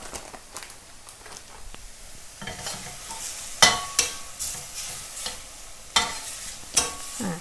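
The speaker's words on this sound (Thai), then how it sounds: "คั่วเขาให้เหลืองเลยนะคะ ให้สุกให้เหลืองเลย" Pork belly stir-fried in a pan for a spicy Thai dish with eggplant, a steady close sizzle broken by scraping stirs and several sharper clacks of the utensil against the pan, with no speech.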